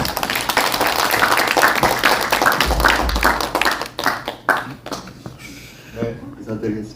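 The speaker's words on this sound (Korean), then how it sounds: "모두 큰 박수 부탁드립니다" Applause from a symposium audience, dense clapping filling the first four seconds, then thinning into scattered claps and fading as a voice begins speaking.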